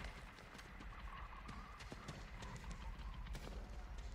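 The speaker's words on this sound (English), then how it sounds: "I hear so many footsteps." Many rapid, overlapping footsteps in The Texas Chain Saw Massacre video game, a steady clatter of near and distant steps running continuously under a dim ambient background.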